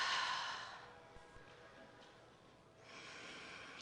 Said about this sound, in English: Hear your breath.